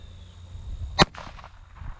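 A single sharp crack from a .22 caliber pistol fired outdoors, one brief loud report followed by a short fading echo over quiet background.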